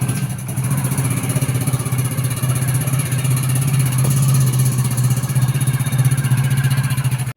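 A motorcycle engine runs steadily while riding, a continuous low drone with a slight rhythmic throb and wind rush, loud and close throughout before cutting off at the end.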